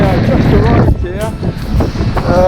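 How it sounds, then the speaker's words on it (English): Strong storm wind on a beach roars and buffets against the microphone in heavy, continuous gusts, with a voice briefly heard under the loud rumble. "Hey, that is some wind."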